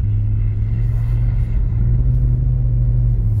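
A BMW E46 held in third gear while drifting on snow gives a steady loud engine drone with low rumble, sustained and close inside the car without speech.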